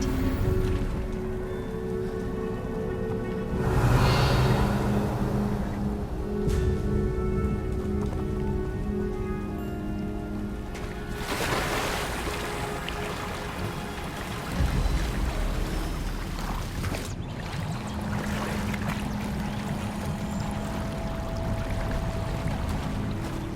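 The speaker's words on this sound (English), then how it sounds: "Look, where the water's bubbling." Water bubbling and pouring steadily in the Hogwarts Legacy video game, a continuous wash of liquid churning and trickling that swells in places and holds at a fairly even loudness throughout.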